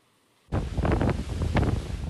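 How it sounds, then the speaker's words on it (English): Hurricane Ian's wind and rain roar outdoors along Florida's Gulf Coast near Punta Gorda, a loud, dense buffeting rush that bursts in suddenly and keeps pounding against the microphone. "It is windy, it is rainy, it is nasty out there."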